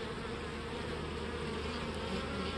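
Honey bees buzz in a dense, steady drone around a hive during requeening, the hum close and continuous with a brief knock at the very end.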